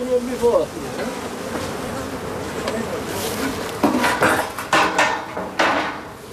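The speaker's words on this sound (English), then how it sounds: "Smoking the bees helps to pacify the hive." A steady buzz of honey bees at a hive hums throughout, with sharper clinks and clatter breaking in toward the end.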